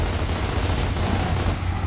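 Rapid Lancer assault rifle fire in Gears of War, a dense continuous burst of shots that is loud and fills the whole short stretch, with no voices.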